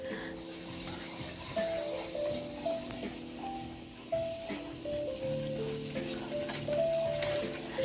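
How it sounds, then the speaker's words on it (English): Butter and flour cooking together into a roux in a pan, a steady soft sizzle and bubbling running throughout, with faint tonal hum and occasional stirring clinks in the background. "it's where you melt the butter and the flour together"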